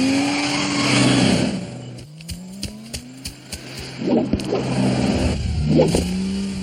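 A car engine revs and pulls away, its pitch rising as it accelerates, then drops back with short thumps and further revving bursts; close and fairly loud, with no voices.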